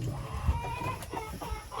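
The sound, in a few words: silkie rooster clucking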